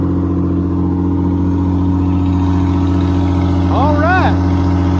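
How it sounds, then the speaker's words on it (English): Detroit Diesel 8V71 tour bus engine idling after starting up from sitting parked for years, a loud, steady, close-up diesel drone with a brief squeaky whine near the end and a voice speaking over it. "12 years been parked right here, and that engine just start like that."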